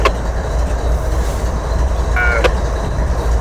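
Locomotive 3886 heading south toward Winston on the rail line: a loud, steady low rumble of the train rolling along the rails, with a short high tonal squeal or whistle-like note midway.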